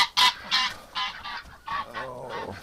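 A goose honks loudly and close by, in a rapid run of harsh repeated honks, with no voices.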